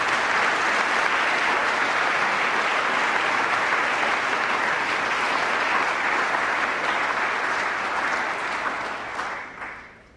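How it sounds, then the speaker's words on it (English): An audience at an annual teen awards evening in Bermuda applauds nominated young people, producing dense, sustained clapping from many hands that fills the hall evenly before thinning and fading out near the end. "I'd like you to applaud those young people who have been nominated"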